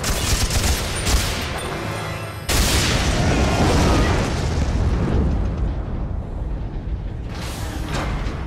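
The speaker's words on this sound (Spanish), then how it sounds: "la explosión que ha habido" An explosion in the video game Tomb Raider Underworld, set in the Mediterranean Sea, bursts out as a loud, rumbling blast with crackling debris that cuts in abruptly and then slowly fades, following a shorter earlier burst.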